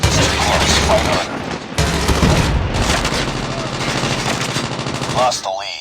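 Rapid machine gun bursts in Call of Duty Mobile, loud and close, firing in several sustained volleys with brief gaps, mixed with game voice callouts.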